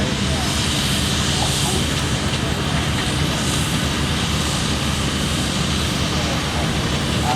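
Heavy agricultural steam traction engine pulling a trailer downhill at a steam fair, a loud, steady mechanical rumble and roar that fills the whole stretch without a break.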